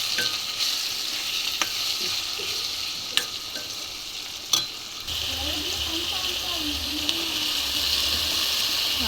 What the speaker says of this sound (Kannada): ಆಲೂಗಡ್ಡೆ ಮಿಕ್ಸ್ ಮಾಡ್ತಾಯಿದ್ದೀನಿ